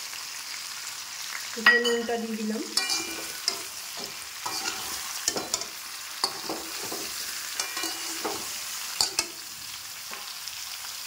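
Mango pieces for pickle frying in oil, a steady sizzle with repeated scraping stir strokes close by; a brief spoken remark near the start, then clattering spoon strokes continue under the hiss.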